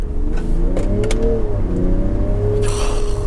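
A Land Rover Defender 90 with a diesel engine accelerates from inside the cabin, its smooth hum rising steadily in pitch with a few brief clicks and no one talking.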